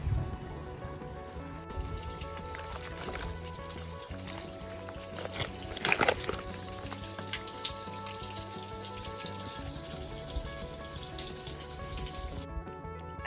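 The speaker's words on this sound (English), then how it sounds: "Can you see it melting? And you can hear it. You see it all running down there." Glacier meltwater trickling and running down near a mountain refuge: a steady close patter and crackle of flowing, dripping water with a brief louder splashy burst midway, continuing without speech.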